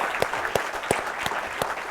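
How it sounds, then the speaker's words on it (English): Audience at a televised election debate on the economy gives a round of applause, steady dense clapping with a few sharper claps standing out, sustained through the whole stretch with no talk over it. "Round of applause for him."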